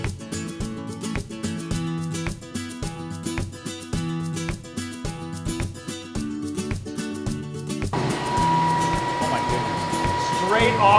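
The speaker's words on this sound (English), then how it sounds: "So that noise we're hearing is the apples being ground." Cider press machine at an apple orchard grinding apples, a loud steady mechanical whirring hum with rhythmic clanking pulses, shifting to a harsher rougher roar partway through.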